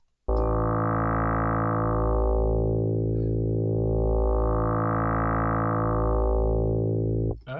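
Sustained FM synthesizer tone from Ableton Live's Operator, rich in stacked harmonics, with a slow rising and falling filter sweep and a steady pulsing throb underneath, loud and continuous for several seconds.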